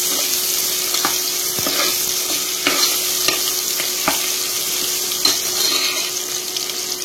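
Onions sizzle and fry in a pan with ginger garlic paste for a Chettinad chicken biryani, a steady close crackle broken by several sharp stirring scrapes, with no talking.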